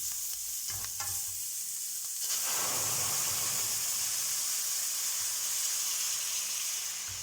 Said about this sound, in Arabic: هننزل بقى بالطماطم